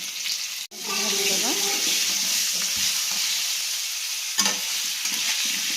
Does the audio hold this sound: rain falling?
no